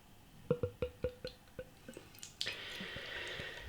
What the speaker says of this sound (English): Okay, beer in the glass.